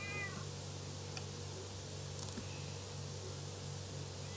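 A cat meows once near the start, a short rising call, followed by soft rustles and faint clicks over a quiet steady background hum.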